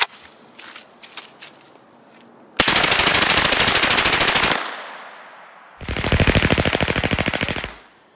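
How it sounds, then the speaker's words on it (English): An HK MP5 submachine gun fires full auto at an outdoor range, dumping the magazine in two sustained, rapid bursts of about two seconds each, loud and close. Quieter handling sounds come before the first burst. "I'm going to try to keep a nice tight group on full auto,"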